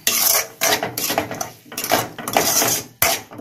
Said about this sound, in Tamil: இஞ்சி பூண்டு பேஸ்ட்டு போட்டு நல்லா வதக்கிக்கலாம்